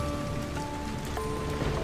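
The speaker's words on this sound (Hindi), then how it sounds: "हल्की हल्की बूंदें मेरे सर पे पड़ रही थी।" Light rain falling steadily as a soft, even patter near a tree by an old gate, continuous and without talk or thunder.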